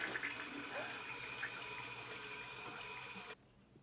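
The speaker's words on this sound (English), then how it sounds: "No, she not flushing down the toilet." A toilet flushes in a film scene: a steady rush of water runs for about three seconds and then cuts off abruptly, faint and with no talk.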